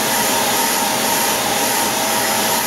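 A hair dryer blows on curly knitting yarn to straighten it, giving a loud, close, continuous broadband whoosh that holds steady throughout with no pauses.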